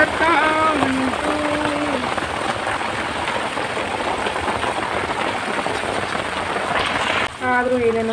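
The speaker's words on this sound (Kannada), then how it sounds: "ಮಳೆ ಬರ್ತಾ ಉಂಟು." Rain pours steadily in Bangalore, a dense continuous hiss with short tonal sounds at the start and near the end.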